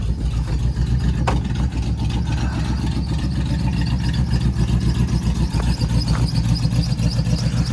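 A manual Land Rover Discovery 1, left sitting for over a year, idles with a steady, rumbling low drone that stays loud and even.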